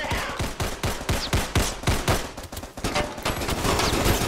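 Rapid gunfire from enemies in the VR shooter Crisis VRigade 2, a dense volley of sharp shots in quick bursts, close and continuous throughout.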